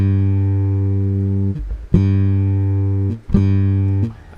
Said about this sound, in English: what does the bass guitar sound like at this?